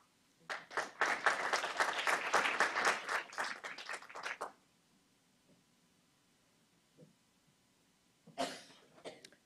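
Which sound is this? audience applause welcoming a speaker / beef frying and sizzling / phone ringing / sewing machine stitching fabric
audience applause welcoming a speaker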